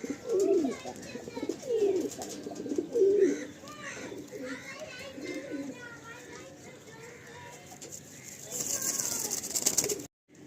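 Black tournament-quality Madrasi pigeons coo in low, repeated rolling calls through the first few seconds, then fade behind rising background noise near the end.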